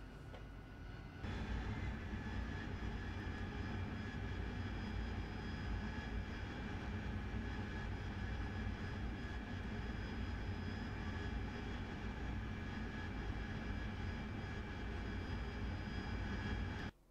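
An AV-8B Harrier jet engine in flight in the DCS simulator, a steady loud roar with a high whine that starts abruptly and holds evenly before cutting off, no talking.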